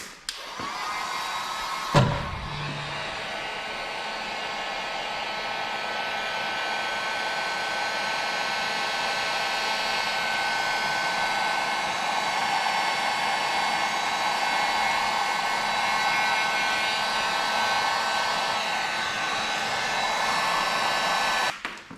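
Heat gun shrinking heat shrink tubing on a K20A2 wiring harness: a click, then a steady loud blowing whir running continuously for about twenty seconds, close by.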